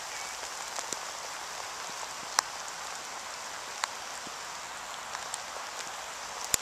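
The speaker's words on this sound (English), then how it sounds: "I don't know if you can see it's raining, but it's really tipping it down." Heavy rain pours steadily and hisses outdoors, a dense, even wash of drops with occasional sharper taps standing out close by.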